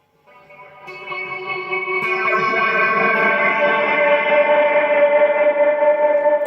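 An electric guitar played through a Zoom MultiStomp chorus effect set to sine wave modulation rings out as a sustained, shimmering chord that swells in and holds steadily, alone and fairly loud.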